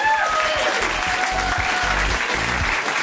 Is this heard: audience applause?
yes